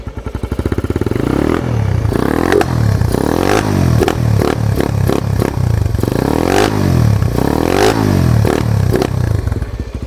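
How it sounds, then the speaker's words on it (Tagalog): Motorcycle fitted with an aftermarket Chukigi exhaust pipe, revving hard and repeatedly with a deep bassy roar, loud and close, engine pitch sweeping up and down in several rising and falling surges with some clatter. "Ganda ng tunog talaga ng Chukigi"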